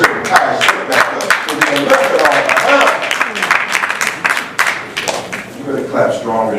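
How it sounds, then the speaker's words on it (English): A debate audience claps in scattered, uneven bursts, sharp hand claps close by over a murmuring crowd, with a voice speaking over part of it. "You better clap stronger than that."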